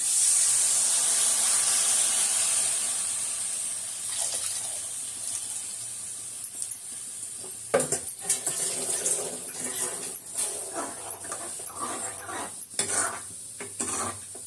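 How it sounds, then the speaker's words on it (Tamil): Dissolved tamarind water pours into a simmering pot of kuzhambu with a steady sizzling rush, then turns into stirring, spoon clinks and pan knocks close by. "இப்போ நம்ம தக்காளி சைஸ் புளி கரைச்சி வச்சுக்கலாம், அதை ஊற்றிக்கலாம்."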